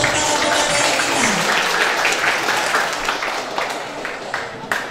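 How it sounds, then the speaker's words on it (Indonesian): Clapping from an audience for the presenters at a school job fair in Rancaekek, dense and continuous, loud at first and slowly thinning toward the end. "Boleh tepuk tangan yang meriah untuk para pemateri kita"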